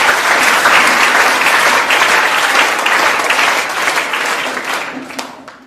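A seminar audience breaks into loud, sustained applause, many hands clapping together close by, the sound gradually thinning and fading toward the end.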